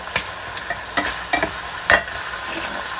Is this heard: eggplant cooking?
yes